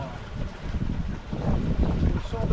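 Strong wind buffets a sailboat at sea near the equator after a big storm, a loud continuous roar with rumbling gusts and water rushing close by.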